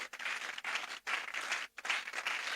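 Church congregation applauding to acclaim the Lord during an Easter Sunday service, dense crowd clapping in three bursts separated by brief lulls, steady and moderately distant, with faint voices mixed in.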